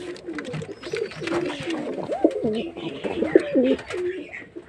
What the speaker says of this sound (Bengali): এই পায়রাগুলো আমার ছোট থেকে বড় করে তারপর জোড়া দেওয়া